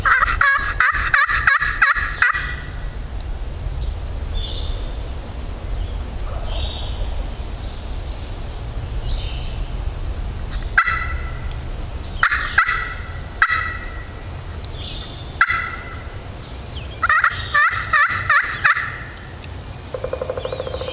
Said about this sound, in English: he's only gobbled a couple times after he hit the ground